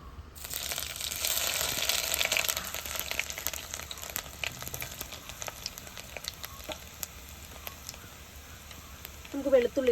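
Chopped ginger goes into hot oil where mustard seeds have already spluttered, while Kerala-style fish curry is being made. A loud, close sizzle and crackle bursts up, then settles into steady frying with scattered pops and stirring scrapes near the end.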